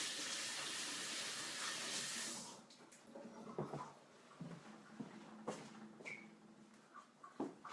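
Kitchen tap running as hands are washed, a steady close hiss of water that cuts off after about two and a half seconds, followed by quieter drips, splashes and handling sounds.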